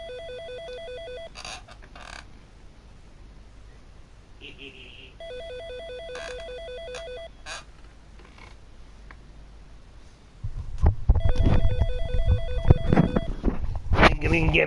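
A telephone rings in the PS4 mystery game Case Files Behind the Doors, with repeated electronic ring bursts in several spaced groups. Louder game sounds and voices take over near the end.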